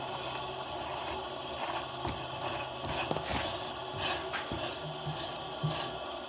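Thread tap being turned into a damaged heli-coil hole with cutting oil, a close, repeated rasping and ratcheting grind of metal on metal in uneven strokes.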